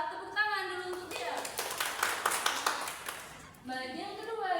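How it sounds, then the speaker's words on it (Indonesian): Classroom audience applauds a student after her presentation in a school social studies simulation, a burst of scattered clapping between stretches of someone talking before and after. "Tepuk tangan dulu untuk dia."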